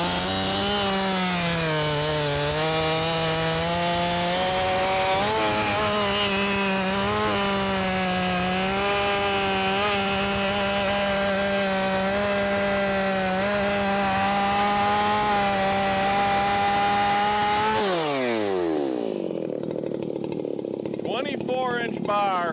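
Chainsaw with a 24-inch bar and a freshly sharpened, tightly tensioned chain bucking big oak firewood, a loud, close engine whine cutting under load before winding down near the end.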